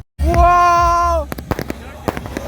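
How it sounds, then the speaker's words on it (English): Fireworks are set off from a beach in Goa to welcome the New Year. A long whooshing whistle is followed by a rapid string of sharp crackles and pops, close and loud. "it was time to spark some fireworks from the beach to bring in the new year"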